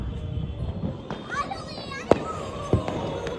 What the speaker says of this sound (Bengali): কিন্তু এই শব্দবাজিগুলো আবার ফাটছে